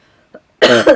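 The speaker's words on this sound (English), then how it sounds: "excuse me, you guys, for the coughing spell" A single close, loud cough from a person, preceded by a faint brief throat noise and otherwise quiet surroundings.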